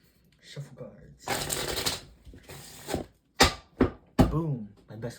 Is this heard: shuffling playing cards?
yes